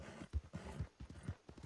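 Horse hooves clip-clop in Red Dead Online, a quick regular trot of soft, muffled footfalls, fairly faint and heard alone.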